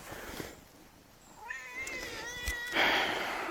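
A young cat meows several times up close, drawn-out wavering cries with a rising and falling pitch, the last one louder and more strained, with faint room noise around them.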